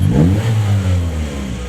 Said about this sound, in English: So this is the sound of an air intake system.